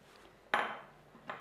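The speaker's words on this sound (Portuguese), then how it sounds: "E vamos fechar a panela novamente." A pot lid is set down onto a cooking pot with one clear metallic clank, then a softer second contact at the end, in a quiet kitchen.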